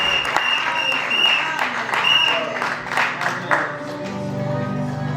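Church congregation in a Paris church applauding and cheering to acclaim Jesus, steady dense clapping throughout with voices mixed in, loud and close, tapering slightly toward the end.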